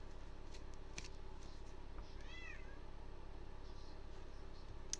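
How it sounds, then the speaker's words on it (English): A cat meows once softly in a quiet indoor room at night, a brief rising-and-falling call over a steady low background hum. "besides cat meows"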